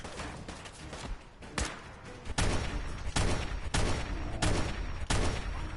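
Gunfire in Fallout 4 rings out as a series of loud, sharp shots, single cracks at first and then bursts spaced roughly every second, with echoing tails over a constant background.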